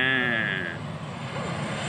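Airplane engine at a viral Malaysian spot, a loud droning roar with a whining tone that fades within two seconds, under nearby voices.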